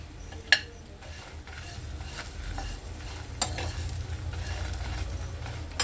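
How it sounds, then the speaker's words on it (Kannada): Garlic, onion and tamarind fry in a pan, a steady soft sizzle with scraping stirring sounds and a sharp utensil clink near the start; no one speaks. "ಸ್ವಲ್ಪ ಫ್ರೈ ಆಗಲಿ ಇದು ಬೆಳ್ಳುಳ್ಳಿ ಈರುಳ್ಳಿ ಹುಣಸೆಹಣ್ಣು"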